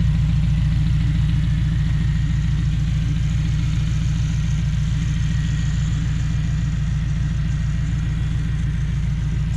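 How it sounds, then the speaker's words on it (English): A custom tube car's engine idles steadily through a Burns muffler, a deep, even low rumble held close and loud from start to finish with no talk. "As you can hear, the Burns muffler keeps it toned down really well."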